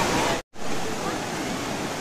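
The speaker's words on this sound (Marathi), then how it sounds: "धबधबा एकदम मस्त वाहत आहे" A waterfall flows in a loud, constant rushing roar close by, cut off for a split second and then continuing unbroken.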